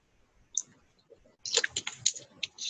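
Keys tapped on a calculator, a few sparse clicks at first, then a quick run of sharp, close taps.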